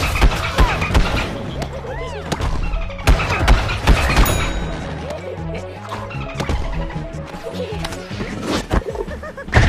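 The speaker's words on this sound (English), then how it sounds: "Oops, stepped on another potato mine." Potato mines in Plants vs. Zombies Garden Warfare go off among busy game action, giving sharp crashing bursts and thuds that recur throughout, with a voice heard over the clatter.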